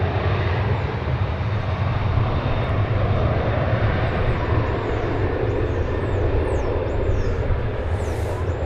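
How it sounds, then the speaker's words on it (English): An American Airlines Boeing 737-800 departs DFW Airport, its jet engines a loud, steady broadband roar that holds constant throughout with no talking. "737-800, of which American Airlines has many of this particular model. A staple of its fleet."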